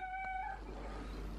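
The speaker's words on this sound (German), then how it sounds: "was Mimi für Geräusche macht und warum er so rumschreit und miaut" A cat meows once in a short, bright call right beside its food, then the sound trails off into low room noise; no voices.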